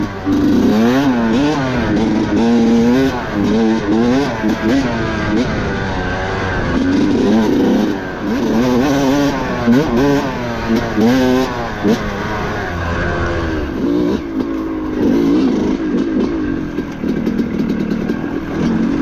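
A 2024 Beta 300RR Race Edition two-stroke dirt bike revs and rides. A loud, close, buzzing engine rises and falls rhythmically with the throttle and keeps going throughout.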